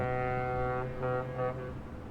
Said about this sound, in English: Looks like a ship's coming in. I love the sound of those horns.